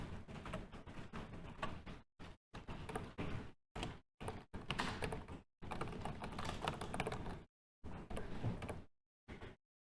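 Keys clatter on a computer keyboard in quick bursts separated by short silences, including a Ctrl+N shortcut press, close and fairly quiet.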